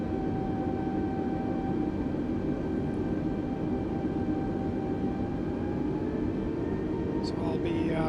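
Steady, loud broadband drone of an airliner's engines spooling up for takeoff in Microsoft Flight Simulator 2020, continuous and unchanging with a faint tonal whine riding on top, plus a brief clicking near the end.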